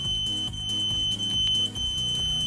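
A MUSTOOL MT8206 multimeter sounds its continuity tester, a loud, piercing, unbroken electronic tone that holds steady throughout, with no voices.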